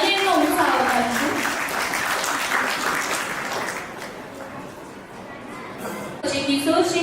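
Crowd applause at a Rajput community felicitation ceremony in Rajkot, with a broad wash of clapping from an audience over a voice talking on a loudspeaker, the clapping fading slightly and then swelling again.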